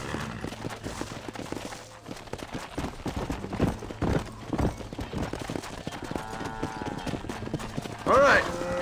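A horse gallops in the Western video game Red Dead Redemption, with rhythmic hoofbeats under shouted voices and a few sharp bursts near the end.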